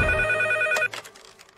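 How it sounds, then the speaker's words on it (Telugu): Telephone ringing in a film scene, a sustained electronic tone that cuts off abruptly, followed by a few faint clicks in a quiet room. "వెంకట్ ఫోన్."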